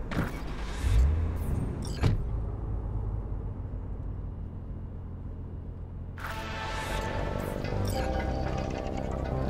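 A car driven through Night City in Cyberpunk 2077, engine rumble running steadily throughout, with a couple of sharp mechanical clunks early on and a brighter, busier layer of sound joining in the last few seconds.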